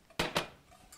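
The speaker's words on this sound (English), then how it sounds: "So we'll just get that mixed in with the egg so it doesn't get lumpy." Two quick clinks of a utensil against a bowl while sugar is stirred into egg, close and crisp with brief silence between and after.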